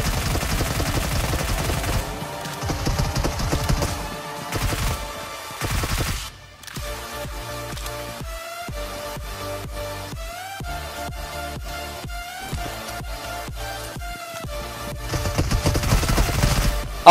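Gunfire rattles during a PUBG Mobile match, with bursts of automatic shots, brief pauses and renewed firing near the end, loud and close over a continuous game sound background.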